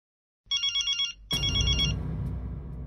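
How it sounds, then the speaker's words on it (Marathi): A telephone rings in short electronic bursts, then a second louder ring starts and fades into background noise. The sound is close and clear, with no talk over it. "आत्ता कोणाचा फोन आला"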